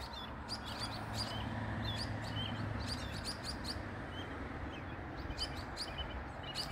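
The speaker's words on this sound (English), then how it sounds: "Robins are very, very excited today." Several robins chirp and sing in quick, high bursts over steady outdoor background noise, moderately distant, with no talking.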